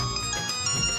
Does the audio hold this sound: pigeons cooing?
no